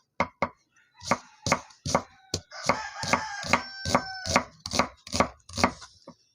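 A knife chops an onion on a board in sharp, close, uneven strikes, about fifteen in all, while a rooster crows in the background partway through.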